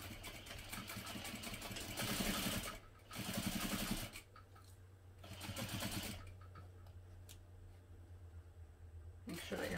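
A sewing machine stitches across strap connectors in several short runs separated by pauses, close and fairly quiet, with a low hum and faint handling in the gaps.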